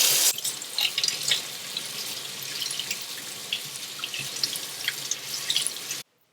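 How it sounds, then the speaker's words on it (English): Radishes rinsed under a running kitchen sink tap: a steady close splash and hiss of water with scattered drips and small spatters, continuing for about six seconds before cutting off. "So then you want to move over to the sink and just rinse your radishes thoroughly."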